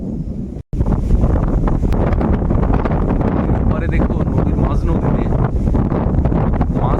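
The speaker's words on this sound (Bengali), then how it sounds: "যখন বৃষ্টি হচ্ছে পাশাপাশি একটা দমকা ঝোড়ো হাওয়া হচ্ছে।" Gusty storm wind with rain beside a river in the Sundarbans, a loud, steady roar of wind buffeting the microphone that cuts out briefly near the start, with a person talking over it.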